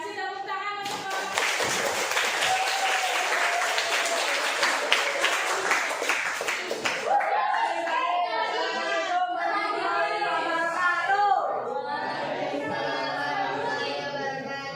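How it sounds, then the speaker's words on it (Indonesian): A classroom of students claps for several seconds, a dense patter of hands that stops abruptly, followed by a young presenter speaking and the class replying together. "Kasih tepuk tangan untuk"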